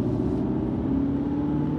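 An Aston Martin car engine rumbles steadily at a low, even idle or cruise, close and continuous throughout the short stretch with no talk over it.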